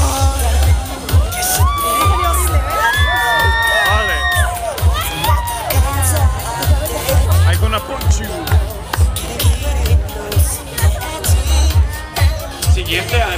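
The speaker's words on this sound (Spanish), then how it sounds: "Un aplauso, ese apoyo que se escuche, muchachos" A crowd at an individual cosplay contest cheers, whoops and claps loudly in a dense, sustained roar. An announcer's voice cuts through now and then.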